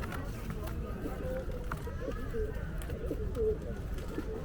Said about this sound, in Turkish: Bu sihirbazların şapkadan çıkarttıkları kumrular var ya